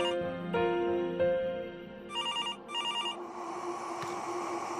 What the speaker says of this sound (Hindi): अगर मोबाइल फोन नहीं उठाया ना तो ऐसे लैंडलाइन पे कॉल आते हैं।